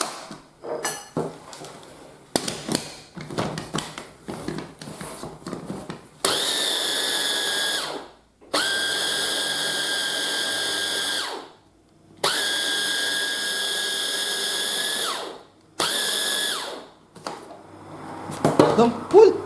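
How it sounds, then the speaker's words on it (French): An electric mixer blends banana waffle batter in four steady high whirring bursts separated by short pauses, preceded and followed by clinks and kitchen handling sounds. "Ensuite, on va mixer."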